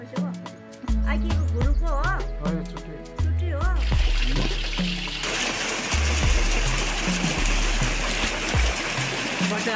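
Water flowing under pressure onto the blades of a turning prayer wheel on a Langtang valley trek in Nepal, a rushing, splashing stream that swells louder partway through, with faint voices early on.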